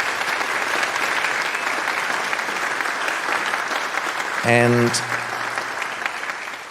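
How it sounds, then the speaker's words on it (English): An audience at a live concert-hall showcase gives a round of applause, a dense wash of clapping that swells and holds for several seconds, with a brief voice cutting in near the end. "I think they deserve a round of applause."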